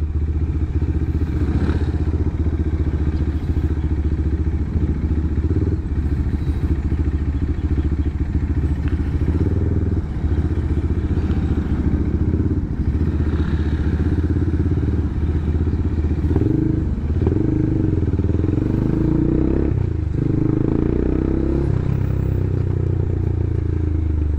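Steady motorcycle engine and cooling fan running up close in heavy traffic, a constant low rumble with fan-like whir and occasional clunks and thuds, no voices.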